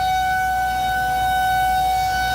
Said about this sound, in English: The sound of these sirens reverberating, telling people to take cover immediately, to take action